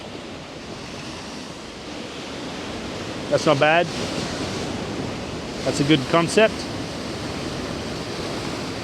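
Ocean waves wash over the granite rocks of Granite Bay at Noosa, a steady broad rushing surf close by that runs throughout, with someone briefly speaking twice over it.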